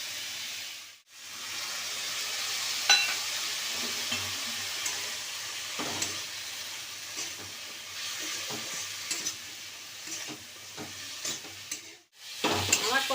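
Ginger garlic paste with ground coriander, cumin, turmeric and chili powder sautéing in a pan for a khoira fish curry: a continuous soft sizzle with repeated spatula scrapes and clinks, close and fairly quiet, briefly cutting out near the start and end.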